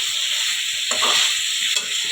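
Chicken pieces stirred and sautéed in a pan on a gas stove, a bright steady sizzle with a couple of brief spatula scrapes, close and alone.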